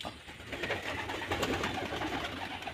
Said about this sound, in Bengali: আর পায়রাও জল খাওয়ার জন্যে ছটফট করছে।